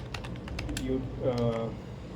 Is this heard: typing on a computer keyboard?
yes